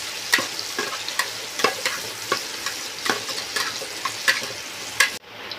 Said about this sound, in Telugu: ఆ ఉల్లిపాయలు వేగేంత వరకు ఆ విధంగా అయితే కలుపుకుంటూ ఉన్నాము.